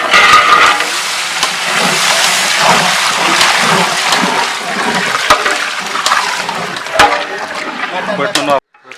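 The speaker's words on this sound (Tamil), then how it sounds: "இப்போ வந்து பார்த்தீங்கன்னா தண்ணி நல்லா கொதி வந்துடுச்சு." Water at a rolling boil in a cooking pot, ready for basmati rice for a mushroom biryani, gives a dense, steady bubbling hiss close by that cuts off abruptly near the end.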